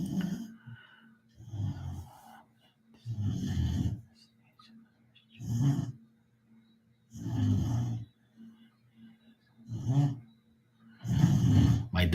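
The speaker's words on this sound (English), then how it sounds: "My dog's snoring like she's on crack." A dog snores loudly indoors, slow rhythmic rumbling breaths repeating roughly every one to two seconds with quiet gaps between, close and steady, while a faint hum sits underneath.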